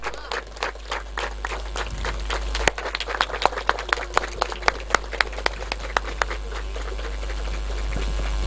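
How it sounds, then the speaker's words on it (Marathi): Audience at a prize distribution for a local sports cup in Diva applauds loudly, a steady crowd of claps with sharper individual hits standing out, continuing for several seconds over a low background hum. "जोरदार टाळ्या वाजवायच्यात."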